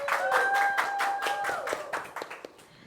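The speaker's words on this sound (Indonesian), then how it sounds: "kasih tepuk tangan dulu dong" Studio audience clapping on cue during an Indonesian broadcast segment, a steady patter of hand claps that thins out toward the end, with sustained tonal music or a voice running over the first half.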